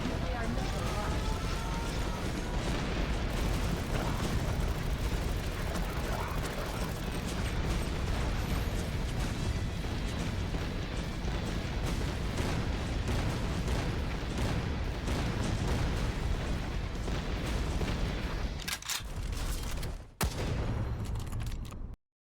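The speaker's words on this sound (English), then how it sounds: "Warning, nuclear missile launched." Nuclear missile launch and explosions in a real-time strategy video game, a dense, continuous roar of blasts and mechanical rattling filling the whole stretch, with a voice heard alongside it and a sudden cut at the end.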